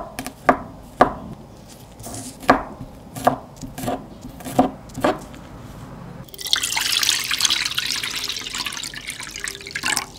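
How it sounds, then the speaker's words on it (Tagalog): Knife chopping string beans in half on a cutting board, sharp regular taps roughly every half second, close and distinct, followed by a steady rush of running tap water. "Hiwain natin to sa gitna at alisin ang mga buto"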